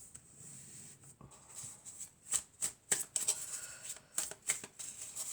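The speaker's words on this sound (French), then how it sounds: "on va prendre quelques cartes de mon oracle" A deck of oracle cards is shuffled by hand in a quiet room, making soft, rapid papery flicks and riffles that come in uneven bursts, close and fairly faint.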